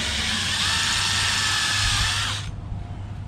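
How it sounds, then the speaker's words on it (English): A power drill bores a hole through sheet metal, a loud, steady high-pitched whine for about two and a half seconds that stops abruptly as the bit breaks through, leaving the motor's lower hum. "when you drill a hole in sheet metal, you always get the kick out flash on the back side here"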